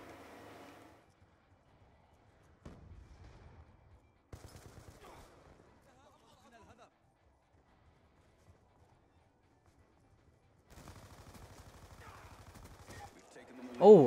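Shooter video game gunfire comes in sparse, moderately faint bursts separated by quiet gaps, with a person talking at times.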